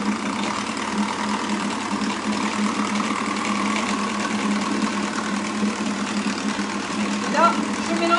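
A kitchen robot runs at speed 4-5 with no heat, whipping mascarpone cream for a Kinder Délice dessert: a steady mid-pitched motor whir holds unbroken throughout at close range.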